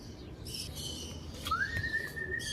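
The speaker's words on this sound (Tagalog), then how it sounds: "O meron tayo, pangalawang ibon." A bird calls outdoors with a few short chirps and then a longer rising whistle, fairly clear over a faint background hiss.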